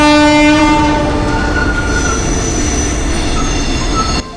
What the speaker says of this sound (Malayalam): ഒരു തുരങ്കത്തിൽ നിന്നും പുറപ്പെട്ട മലനിരകളെ കീറിമുറിച്ച് തൊട്ടടുത്ത തുരങ്കത്തിലേക്ക് പാഞ്ഞു പോകുന്ന ഒരു ട്രെയിൻ യാത്ര